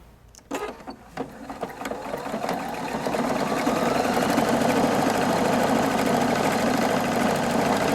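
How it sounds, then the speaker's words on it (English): A Husqvarna Viking Opal 690Q sewing machine stitching decorative patterns: a few clicks and thumps as it starts, then a steady, loud, close mechanical whir of rapid stitching that builds and holds, with no speech. "as it's stitching these patterns out, the pattern will start to go by on the screen"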